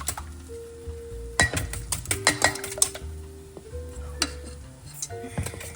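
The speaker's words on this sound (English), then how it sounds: "eggs are in. Just going to go ahead and mix it up." Eggs are stirred in a bowl in a home kitchen. Utensils scrape and clink against the bowl in quick irregular strokes, close and fairly loud, with a faint background hum.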